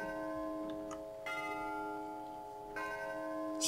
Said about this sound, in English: So it's like a bell, like a church, I guess.